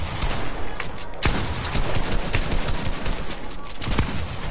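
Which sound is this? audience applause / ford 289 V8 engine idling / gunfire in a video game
gunfire in a video game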